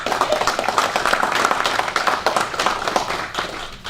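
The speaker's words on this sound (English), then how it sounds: "please give a big round of applause to District Attorney John Muehl" A crowd at a county board of supervisors meeting gives the district attorney a round of applause, with dense, steady clapping from many hands that holds for several seconds before tapering.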